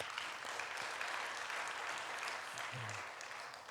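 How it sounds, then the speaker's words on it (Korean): A church congregation at a lay leaders' seminar worship service in Cheonan claps together in a full, continuous round of applause, fairly distant and even, with a brief low voice near the end. "우리 하나님께 영광의 박수 올려드립시다"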